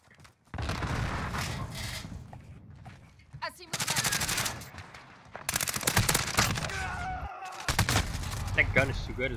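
Gunfire in a first-person shooter video game: repeated bursts of automatic weapon fire, loud and close, separated by short pauses, with a voice talking over parts of the action.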